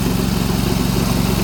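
A snowblower runs outdoors in snow along wooded trails, its engine giving a loud, steady, close drone with a fast low throb.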